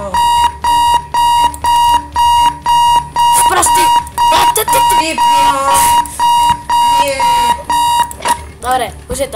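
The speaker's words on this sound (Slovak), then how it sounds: "Proste budík! Budík!" An alarm clock in the bomb-defusal video game Keep Talking and Nobody Explodes rings in steady, evenly spaced bursts of bright beeps. Excited voices soon talk and shout over it, while the beeping continues beneath them.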